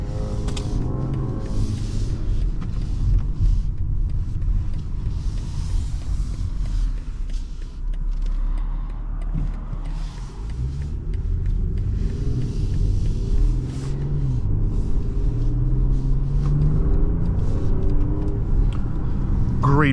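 A 2024 BMW X4 M40i with an inline-six engine accelerating while driving, a deep continuous engine rumble heard from inside the quiet, well-insulated cabin, rising and falling slightly as it pulls.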